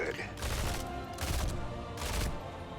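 Rapid bursts of gunfire from attacking an enemy in the video game Heroes 2.0, three loud repeated volleys separated by short gaps, with a voice speaking faintly underneath.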